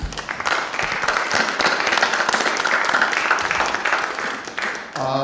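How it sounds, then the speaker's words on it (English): Audience applause at a symposium on Black experience in the Vietnam War, a dense, sustained crowd clapping that holds steady at moderate loudness for several seconds before tapering off at the end. "A round of applause and appreciation."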